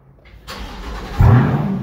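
A Corvette engine cranks and fires up with its battery removed, a starter whir building into a loud, close idle roar that holds steady to the end.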